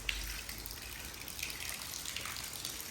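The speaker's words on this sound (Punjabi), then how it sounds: "ਚੱਲਦੀ ਝੜੀ ਹਲੇ" Steady rain shower pouring off tin roof sheets during a long downpour in Ropar, heard as a continuous, even hiss of running water with no pauses.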